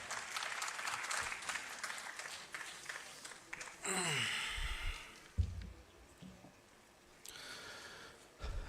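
Applause rises from an audience welcoming a guest onto the stage at a Punjabi literary festival, a burst of clapping that swells and fades, with a host's voice and other sounds around it.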